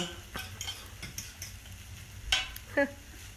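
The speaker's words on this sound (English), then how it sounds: "this is just grated Parmesan. Stir that on in." Grated Parmesan is stirred into a ham and broccoli frittata mixture, making soft scraping and a few sharp utensil clinks against the bowl in a quiet kitchen.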